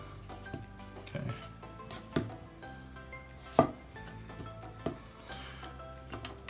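A budget chef's knife slicing through a tomato on a cutting board, giving a handful of separate soft knocks as the blade reaches the board, spaced irregularly about a second apart, close up and without talk.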